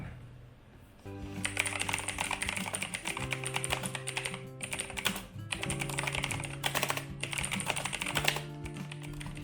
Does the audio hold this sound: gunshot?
no